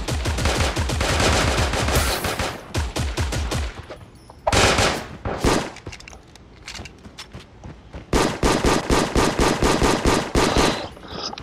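Rapid automatic gunfire from the video game Creative Destruction crackles in loud, dense bursts, broken by short pauses and a few single shots and thuds, with firing resuming in a long sustained volley near the end.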